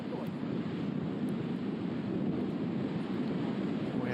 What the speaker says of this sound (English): It's definitely blustery.